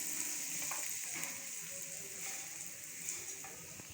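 Two green chillies sauté briefly in a pan for bonda, giving a continuous soft sizzle of oil with faint stirring scrapes, steady and close, with no voices.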